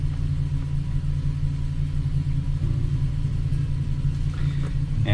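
A 2006 VW Jetta with the 2.5L engine idles rough after a spark plug change, a steady close low rumble with an uneven, lumpy pulse running throughout and no talking.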